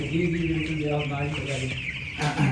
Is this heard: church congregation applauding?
no